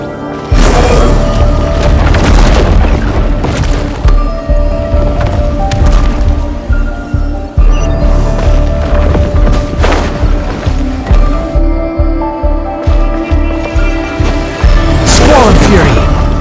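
A breakable wall being smashed in the video game Genshin Impact, with loud booming crashes and splintering cracks repeating through a dense game soundtrack and effects, and voices talking over it.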